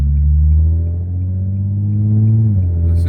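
A cold car pulls away in first gear, its low engine rumble steady and close, then easing off sharply near the end.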